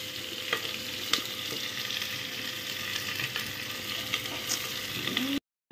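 Onions fry and sizzle in a pan for a Khasi mansara jhola dish cooked at home, a continuous close crackle with spatula stirring scrapes scattered throughout, cutting off abruptly near the end.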